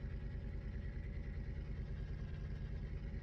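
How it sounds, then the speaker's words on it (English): A Valtra tractor engine in a farming video game drones in a steady, deep rumble with an even pulsing texture, constant and unbroken throughout with no voices. "trust me, this tractor is loud"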